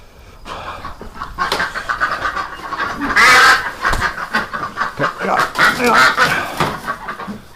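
Ducks watched over by a dog give repeated quacking bursts nearby, mixed with panting and other farmyard noise, while voices talk over much of it.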